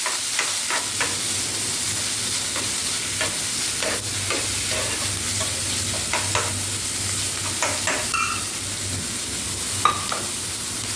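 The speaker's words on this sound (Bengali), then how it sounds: "এবার এর মধ্যে আমি দিয়ে দেব ছানাটা আমি এর মধ্যে দিয়ে একটু নাড়াচাড়া করে নেবো" Chhana (cottage cheese) being stirred in melted ghee in a pan for mango halua, a steady close sizzle with repeated scraping clicks of the spoon at an uneven rhythm throughout.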